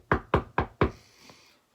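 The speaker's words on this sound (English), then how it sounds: "banged hard on the door" Four hard knocks bang on a wooden house door in quick succession, loud and close, followed by a faint trailing rattle with no voices.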